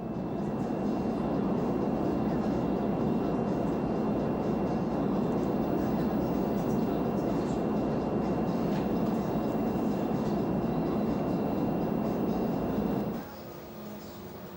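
A large wind tunnel fan, able to drive air past 200 km/h, runs as a loud, steady, broadband roar that holds evenly, then cuts off abruptly near the end, leaving a quieter lower hum.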